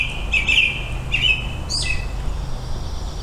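Outdoor bird chirping, a few bright, high tweets in quick bursts near the start, then one more short call, fairly clear over a low background rumble.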